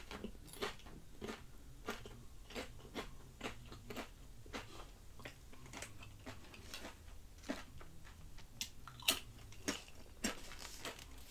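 Tortilla chips dipped in sour cream are bitten and chewed up close, giving repeated crisp, loud crunches in a steady rhythm for several seconds, with no talking.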